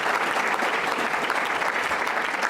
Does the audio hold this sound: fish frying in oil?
no